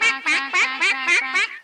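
Cartoon ducks quack loudly and close by, about six rapid harsh calls in a steady rhythm, with no speech over them.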